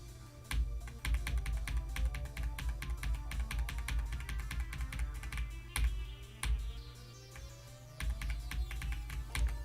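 Computer keyboard typed rapidly and continuously during play of the game Supersonic, dense clicking keystrokes close to the microphone with no talking.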